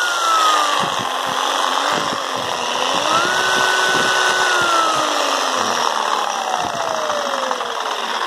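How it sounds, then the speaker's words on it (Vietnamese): A Japanese 100V handheld electric cutting machine runs steadily at close range, a smooth continuous whine whose pitch drifts slightly, with no talk over it. "Máy rất êm các bác nhá."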